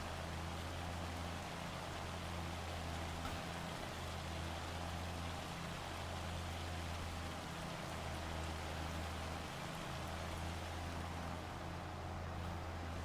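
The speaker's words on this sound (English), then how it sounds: "it's hailing. It's not snowing, it's hailing." Hail falling in the video game Farming Simulator 25 on the Elk River map, a steady, dense hiss of pellets drumming on surfaces, constant and moderately loud throughout with a low hum beneath and no talking.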